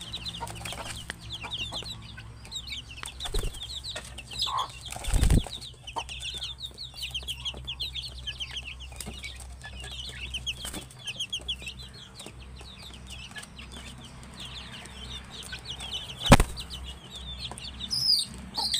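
Chickens cluck and chatter around a home yard, a busy run of short calls with occasional wing flaps and a couple of sharp knocks, moderately close and without talk.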